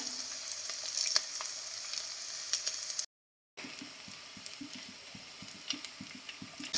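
Green chilies and shallots frying in a pan for a fish curry give a steady close sizzle with stirring clicks, broken by a short silent gap midway, with no one talking.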